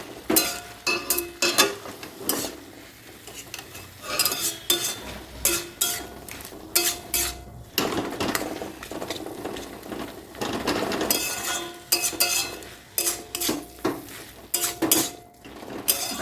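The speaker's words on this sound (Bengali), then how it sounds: "এবার আলু কুমড়োটাকে একটু এইভাবে শাকের সাথে গেলে গেলে দিচ্ছি, যাতে শাকটা একটু মাখা মাখা হয়।" A utensil scrapes and clatters against a pan while boiled potato and pumpkin are mashed into greens, making repeated close, uneven metallic scrapes and knocks.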